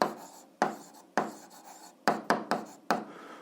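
A pen writes out the answer to an 8th-grade algebra exercise on paper: seven or eight close scratchy strokes, each starting with a sharp onset and fading, in an irregular rhythm with no speech.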